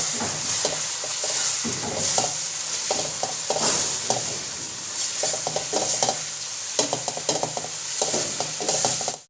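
Ground red chili and turmeric frying in oil in a pot for chicken karahi, sizzling continuously while a spoon scrapes and stirs in repeated bursts, close and fairly loud.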